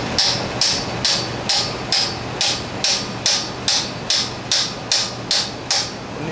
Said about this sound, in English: We need a bigger hammer for that one.